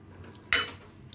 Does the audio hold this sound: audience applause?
no